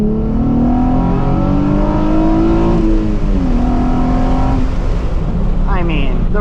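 A Nissan 350Z Rev Up engine revs hard while accelerating through the gears in traffic, heard loud from inside the car as the pitch climbs, drops at a shift, then climbs again.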